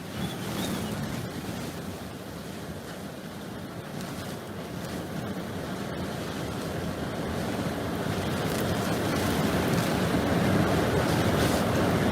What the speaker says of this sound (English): Biggest gust yet!